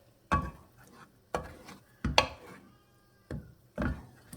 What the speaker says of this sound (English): We're going to go ahead and just stir this up.